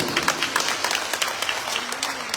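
Parish congregation at a gospel choir fellowship clapping for God, a sustained wash of applause with some sharper individual claps standing out, moderately close and fairly even throughout.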